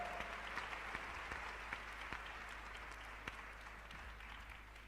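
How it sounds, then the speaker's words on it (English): Audience applause welcoming a speaker to a stage, steady moderate clapping from a crowd heard at some distance over a constant low hum, with a few sharper claps standing out. "Ladies and gentlemen, please welcome her with a warm round of applause."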